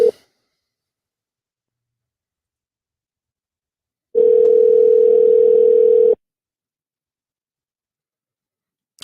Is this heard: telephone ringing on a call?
yes